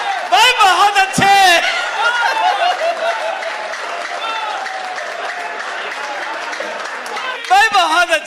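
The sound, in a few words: audience applause at a Hindi comedy poetry gathering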